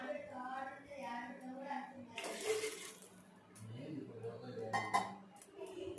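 About one and a half cups of water are poured into a rice cooker for egg biryani, giving a short splashing pour in the middle of the clip amid faint kitchen clatter.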